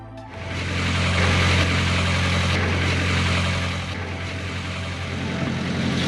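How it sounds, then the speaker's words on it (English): A steady boat generator engine drones close by at a constant idle, its low hum and rattling mechanical noise continuing without pause. "tried to turn on the generator"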